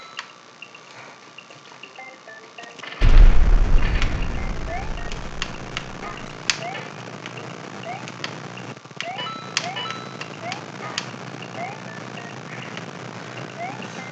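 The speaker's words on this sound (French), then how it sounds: "les bombes font principalement de belles explosions, bien cassant plein de trucs" Bombs explode in the New Super Mario Bros video game, a loud low boom striking suddenly and decaying over a few seconds, amid the game's music and small effects.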